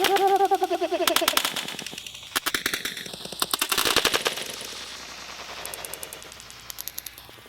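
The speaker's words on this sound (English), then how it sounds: "he just shot me. And I immediately reacted and shot him back." Rapid bursts of gunfire crack back and forth in a close-range firearms training drill, with several loud volleys and short trailing shots spread across the stretch.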